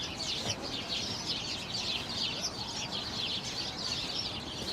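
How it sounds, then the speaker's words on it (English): A dense chorus of sparrows chirping and twittering continuously at moderate distance, over a low background rumble, in Greenwich Village, New York City. "sparrows"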